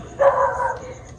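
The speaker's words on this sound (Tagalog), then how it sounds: "pasensya na ha, maingay yung aso." A single short dog bark, fairly close, over quiet background hiss.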